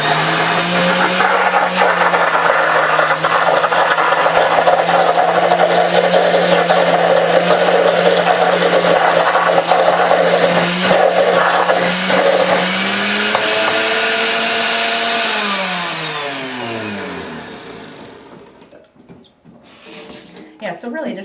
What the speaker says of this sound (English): Go through the blender.